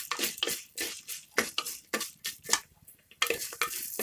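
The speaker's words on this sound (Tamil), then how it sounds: "பூண்டை நல்லா வறுத்து எடுத்துக்கிட்டதுக்கு அப்புறமா நல்லா வதங்கணும் பாருங்க" Garlic frying in a clay pot for an anchovy fish curry, with a utensil scraping and stirring in a brisk, uneven rhythm of close, sharp strokes, and no talk.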